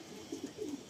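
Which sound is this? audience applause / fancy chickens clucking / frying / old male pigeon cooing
old male pigeon cooing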